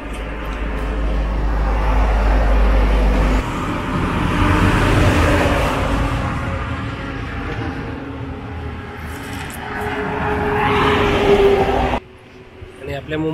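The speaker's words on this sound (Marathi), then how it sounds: "आपल्या मुंबई गोवा हायवेवरती सध्या जोरदार वाहतूक आहे बघा" Heavy traffic on the Mumbai–Goa highway, vehicles rumbling and swishing past in a continuous roar with a deep engine drone early on, while someone talks over the noise in rainy weather.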